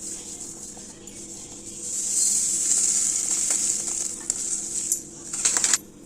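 Chia seeds dry-roasting in a pan give a steady, close hiss, with faint scraping from stirring that swells in the middle and ends in a few sharper rattles.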